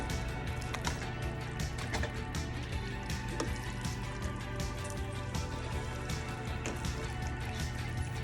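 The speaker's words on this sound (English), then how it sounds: "this is how you want your pasta to sound." Soft, continuous bubbling and popping of thick pasta sauce simmering in a pan, close and fairly quiet, with no talking.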